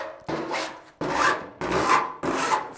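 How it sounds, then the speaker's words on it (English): A file rasps sharp edges off a steel patch panel for a Tri-Five Chevy fender near the headlight. Four close, steady scraping strokes with short pauses between them. "Filing it off so there's no real sharp edges."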